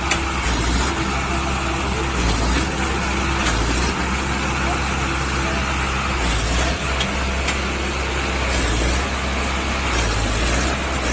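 A tractor engine labours steadily to pull a stuck vehicle free, a loud continuous low diesel rumble throughout with faint voices underneath.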